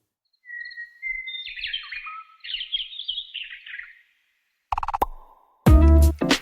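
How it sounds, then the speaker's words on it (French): Bright, rapid twittering from a cheerful songbird fills the first few seconds in close, lively bursts, followed by a pause and then a couple of abrupt, louder unrelated noises. "Le bruit d'un oiseau heureux."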